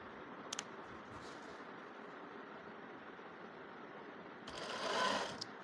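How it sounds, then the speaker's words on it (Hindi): A sewing machine stitches a puff sleeve in a boutique, a faint steady whirring run that swells briefly louder near the end, with no talking. "और यहाँ से करेंगे सिलाई शुरू।"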